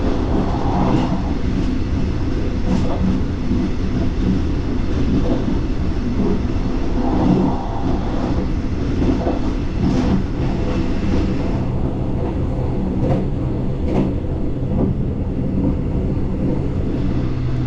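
A Mugunghwa passenger train on the Gyeongbu Line rumbles steadily along the rails, with a continuous loud roar, wheel clatter and occasional sharp clicks over the joints.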